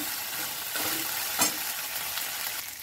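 Green chili paste dropped into hot oil in a frying pan while cooking rohu fish for doi maach, giving a steady broadband sizzle with a brief sharper crackle burst partway through.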